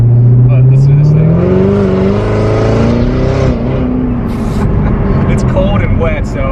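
A 2020 BMW S1000RR M sportbike fitted with a new aftermarket Akrapovic-style exhaust revs loudly and close, rising and falling in pitch, outdoors on a cold wet day, with someone talking over it.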